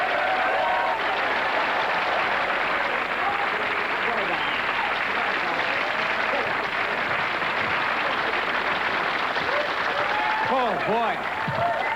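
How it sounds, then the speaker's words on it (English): Comedy club audience at the Improv, late 1980s to early 1990s, breaks into sustained, dense applause that fills the room at a steady level, welcoming a comedian to the stage, with a brief spoken exclamation over it near the start. "Let's give a round of applause and welcome our next outstanding comedian."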